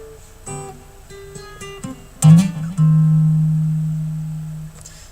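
Electric guitar plays a passage, a few clear picked notes and dyads, then a sharp attack and a long sustained note ringing out and slowly fading, heard alone with no talk.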